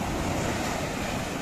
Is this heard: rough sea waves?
yes